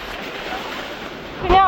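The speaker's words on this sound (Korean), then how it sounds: "그냥 거의 폭포를 맞고 있어요." Heavy Niagara Falls spray and gusting wind buffeting close to the microphone, a steady rushing roar with a louder blast near the end, brief and loud.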